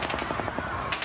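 Rapid automatic gunfire during a mass shooting at an outdoor crowd, a dense burst of sharp cracks in quick succession, loud and continuous over a noisy background.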